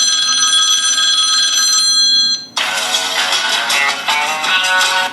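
A phone ringtone plays on an iQOO Z6 smartphone: a bright, steady chiming melody that shifts halfway through into a fuller, busier musical burst. It is loud and continuous, with no talking.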